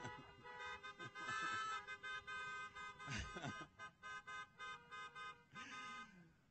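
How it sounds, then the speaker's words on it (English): Many car horns honk at an outdoor Windsor Forest High School welcome ceremony for the incoming class, a dense overlapping chorus of toots and long blasts followed by a run of short rhythmic beeps, fairly loud and with no talk. "Honk your horns if you're happy about that."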